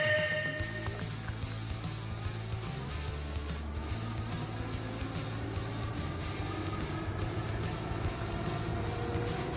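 A Hovsco HovGTRS Plus electric bike accelerates hard from a standstill on throttle alone during a 0 to 20 mph run. A steady low motor hum carries a rising whine under continuous wind and road rush, with no talking.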